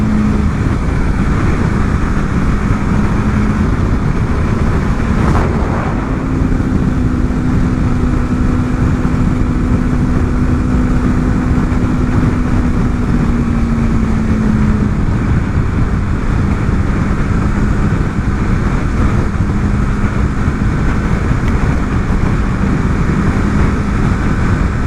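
A 2024 Aprilia RSV4 motorcycle engine drones steadily through a demo ride, a loud continuous roar with a pitch that rises and settles, heavily mixed with rushing wind, no voices.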